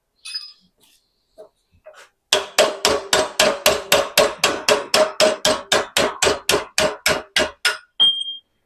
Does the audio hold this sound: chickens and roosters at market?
no